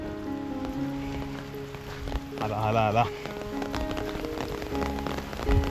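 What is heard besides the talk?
heavy monsoon rain arriving with wind in Konkan village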